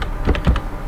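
Typing on a computer keyboard, a handful of quick, close key clicks in an uneven burst over a steady room hum, with no talking.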